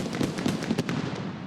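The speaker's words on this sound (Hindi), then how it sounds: "लक्ष्मी बॉम्ब का धमाका।" A Laxmi bomb firecracker in a Diwali-themed cartoon, heard as a quick run of loud, sharp bangs and crackles packed close together, several pops in under two seconds.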